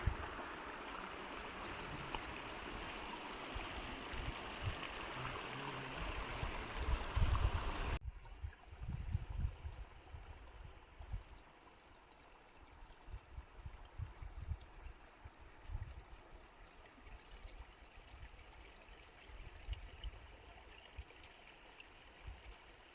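Mountain stream at the Dhara Odari campsite on a high pass trek, water rushing and gurgling steadily over rocks, loud and close at first, then a little softer and more distant after a sudden drop partway through, with no voices.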